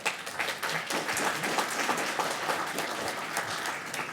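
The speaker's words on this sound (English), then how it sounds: "thank you for the warm applause" The audience at a youth council candidate forum gives the radio-host moderator a warm round of applause: a thick, even wash of many hands clapping that stays close and steady for about four seconds.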